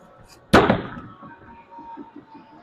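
A bowling ball thrown down the lane with a long-pin ball on the same aim spot crashes into the pins in one loud, sharp burst, followed by a brief rattling decay and faint tumbling pins.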